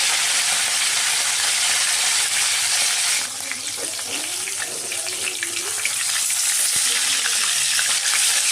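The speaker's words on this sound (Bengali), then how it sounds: "আমি দুবারে ভাজবো মাছগুলো।" Pieces of fish fry in hot oil in a home kitchen, a loud, continuous hiss and crackle that dips briefly midway before surging back, steady and close.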